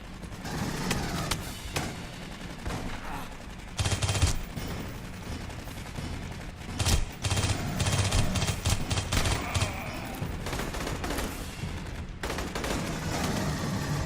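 Weapon fire in the video game Aliens Colonial Marines: dense, continuous automatic bursts with sharp repeated reports and rattling mechanisms, loud and close throughout with almost no pauses.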